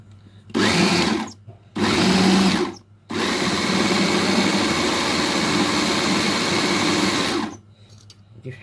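Molokhia being blended in an electric blender: two short whirring bursts followed by one long continuous high-pitched run, loud and close, with no voices.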